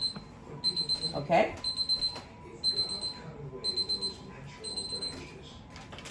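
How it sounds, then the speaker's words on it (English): A kitchen timer alarm going off during bread baking, repeated bursts of rapid high-pitched electronic beeps in a steady rhythm, with a person talking over it. "That's my bread timer going off."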